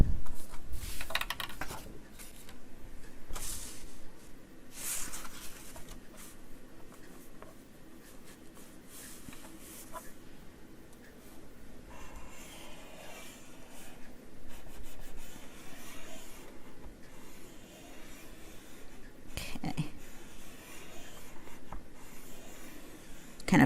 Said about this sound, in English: We're going to fold it. We're going to burnish it.